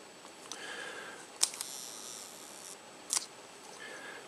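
The shutter release of a Minox B subminiature camera on its B setting gives two faint separate clicks, an opening and then a closing about two seconds apart, with a faint whir in between in a quiet room.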